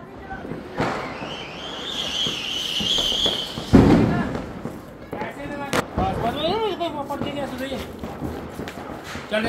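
A butterfly firecracker lit at a Diwali celebration fizzes with a high, steady whistle for a few seconds, then ends in a sharp pop, heard close alongside people talking.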